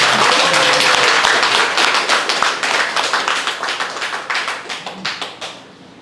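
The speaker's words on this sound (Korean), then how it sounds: "큰 박수 부탁드립니다" An audience at a gallery opening talk show claps after a musical performance, a dense burst of hand clapping that starts full and steadily thins and fades into scattered claps over several seconds.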